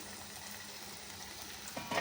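Eggplant and potato pieces fry in moderately hot oil in a kadai for a Khandeshi vangi-batata dish, giving a soft, steady sizzle with a brief louder crackle near the end, no talking.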